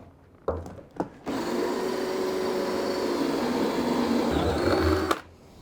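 A drill whirs steadily for several seconds, boring cable holes in a model bridge deck, starting after a couple of brief knocks and stopping abruptly.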